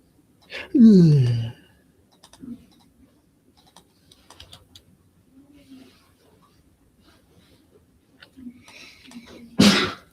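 A single loud sneeze bursts out near the start, followed by a few quiet clicks and small sounds, then a second sharp burst at the end.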